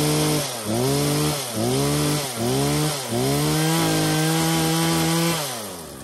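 A Husqvarna 236E chainsaw cuts through wood with a loud, buzzing engine drone that dips and surges in repeated bursts as the blade bites, then steadies into a long continuous cut before easing off.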